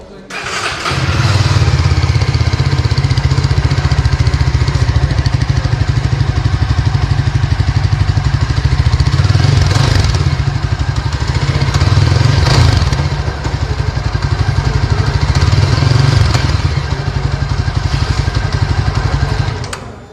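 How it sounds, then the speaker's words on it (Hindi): A Yezdi Scrambler motorcycle with dual exhausts starts up and runs at a loud, steady idle for about twenty seconds. Its deep, throbbing exhaust note swells briefly when the throttle is blipped a few times. "मैं आपको एग्जॉस्ट टोन थोड़ा सुना देता हूँ।"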